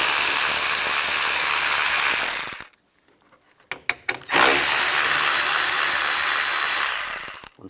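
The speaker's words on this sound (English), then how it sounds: "I'm going to use an 8mm socket." A ratchet with an 8mm socket takes the nuts off a driver side mirror on a 2011-2025 Dodge Durango: loud, close, continuous ratcheting clicks, a brief pause with a few clicks, then another long run of ratcheting.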